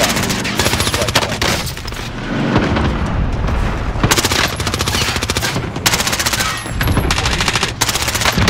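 Video game airstrike: a rapid barrage of heavy booms and crackling blasts rolls on continuously, loud and dense, with short bursts layered over a low rumble and brief game voice callouts.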